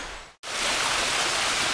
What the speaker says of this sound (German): Das ist jetzt das untere Ende vom Wasserfall.